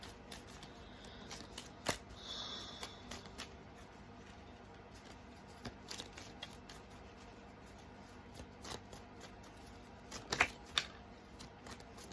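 Tarot cards are shuffled and pulled in a quiet room, making soft scattered snaps and riffles with longer pauses between them. The sounds are faint and close, with no talking.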